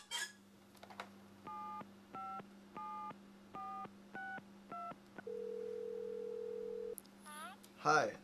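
A telephone keypad sends six short, evenly spaced dual-tone beeps over a steady low hum, then a longer single ringing tone, followed by faint noise at the end.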